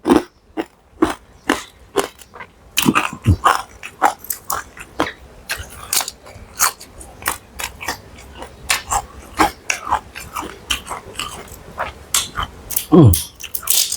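Crispy Thai pork rind being chewed up close, a long run of sharp, loud crunches and crackles in an irregular rhythm, with a few soft murmurs between bites.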